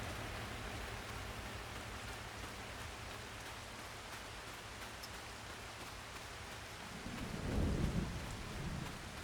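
Steady rain pours across a farm field, and a low rumble of thunder swells briefly near the end.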